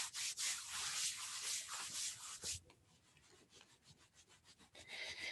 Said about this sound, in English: As you come to seated, just rubbing the body, arms and legs.